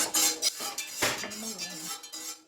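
Cornstarch is stirred into boiling water in a metal pot, giving quick scraping and clinking strokes of a utensil against the pot, close and fairly faint, with a few sharper knocks among softer swirling sounds.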